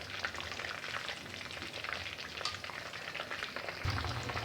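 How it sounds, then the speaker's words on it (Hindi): Chicken frying in oil in a pan, a dense, steady sizzle with crackling spatter that runs without a break and stays close and even. "इसको मैं 10-12 मिनट तक फ्राई करूँगी ताकि ये फ्राई हो जाए अच्छी तरह"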